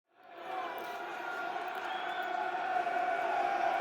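Football crowd at Millwall's home ground during a 0-0 league match against Ipswich Town, a steady wall of massed voices that swells gradually and holds as a sustained roar urging the home side on, with no clear individual talk.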